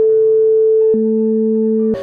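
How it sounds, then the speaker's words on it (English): Sustained electronic octave tones, A at 220 Hz and A at 440 Hz, sounding as steady pure pitches that shift at about the one-second mark and again near the end, loud and clean with no voices. "Meaning an A at 220 Hz doubled is an A at 440 Hz"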